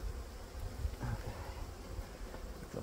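Honeybees hum in a steady, close buzzing drone around an opened hive at the end of the beekeeping season.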